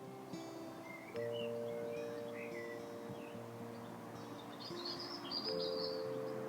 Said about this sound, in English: I can just hear all the birds.